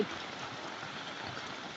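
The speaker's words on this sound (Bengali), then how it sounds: "প্রচণ্ড বৃষ্টি বৃষ্টি শুরু হয়েছে সোয়া একটায় শিলাবৃষ্টি" Heavy rain with hail pours down in Gazipur in a dense, unbroken hiss, pattering steadily on surfaces nearby.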